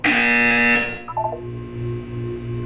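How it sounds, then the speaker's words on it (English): In the Portal 2 video game, a harsh electronic buzzer blares loudly for about a second and cuts off, followed by a faint short tonal blip and a low steady hum. "When you hear the buzzer, look down at the floor."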